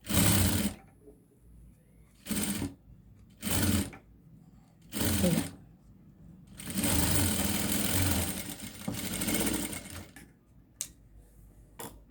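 A sewing machine stitches a cotton dhoti in several separate bursts of rapid mechanical clatter, short runs early and then a longer continuous stretch, with quiet pauses between.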